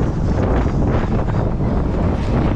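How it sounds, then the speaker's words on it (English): Strong wind buffets the microphone on a fishing dock in Florida, a loud, steady rumbling roar with no talking. "It's windy today, guys."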